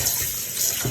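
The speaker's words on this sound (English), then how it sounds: "I clean my chicken with cold water" Cold tap water runs steadily over raw chicken pieces being rinsed in a kitchen sink, a continuous close splashing hiss with no talk.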